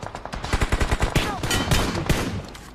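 An automatic weapon in the mobile battle royale game BGMI fires a rapid spray of shots, opening with distinct quick cracks that blur into a dense, continuous burst.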